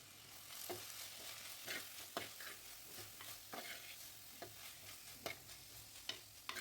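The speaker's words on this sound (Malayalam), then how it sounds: "ഇപ്പോൾ സ്ലൈസായി മുറിച്ച് വെച്ച സവാള നമുക്ക് ചൂടായ എണ്ണയിലേക്ക് ഇട്ട് കൊടുത്തിട്ട് ഉപ്പും ചേർത്ത് കുറച്ച് സമയം ഒന്ന് വഴറ്റിയെടുത്ത്" Sliced onions with salt sautéing in hot oil for a chicken curry, a steady close sizzle broken by regular stirring scrapes of a utensil against the pan, with no voices.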